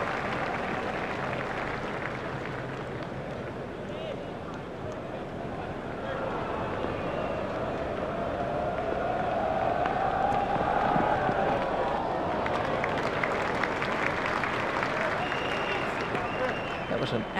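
In the cricket video game EA Cricket 2002, a large stadium crowd at Bombay cheers and applauds in a continuous roar that swells toward the middle and stays loud, with a commentator's voice running underneath.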